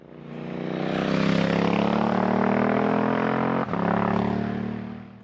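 A Suzuki V-Strom 800 DE motorcycle fitted with a Yoshimura RS12 ADV slip-on exhaust revs up to a loud, steady, throaty drone, with a brief dip near the end before it fades out.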